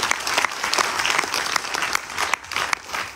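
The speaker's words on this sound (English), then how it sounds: "Give all of them a round of applause." Audience applause inside a tent at a Ganesh Chaturthi festival gathering, a full, steady clapping with sharp individual claps standing out, moderately loud and continuous.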